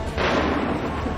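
Musket volley fire in the video game Assassin's Creed III, a sustained loud burst of massed gunshots rolling together into one continuous roar with no clear individual shots.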